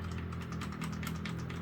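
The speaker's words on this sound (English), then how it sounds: "I don't know what I'm typing there." Rapid keystrokes on a Royal Kludge RK71 wireless mechanical keyboard, a steady close clatter of clicks running continuously with no pauses.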